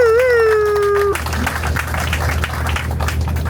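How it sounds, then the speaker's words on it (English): Audience aboard a whale watching boat in Juneau breaks into steady applause after a voice, clapping continuing for a few seconds amid engine rumble. "If we could get a round of applause for Alta back in the galley for keeping you guys fed"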